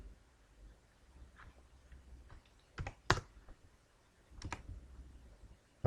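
Fingers tap on a computer keyboard while C code is entered, giving short, quiet bursts of clicking keystrokes with small pauses between them, close and soft, and no voice.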